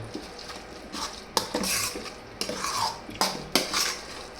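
A spoon stirs green corn chevda in a metal pan, giving a series of sharp scraping clatters at irregular intervals over a faint sizzle, close and fairly loud, with no voices.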